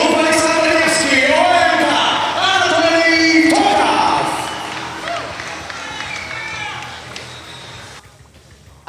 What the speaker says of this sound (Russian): Зал взрывается аплодисментами.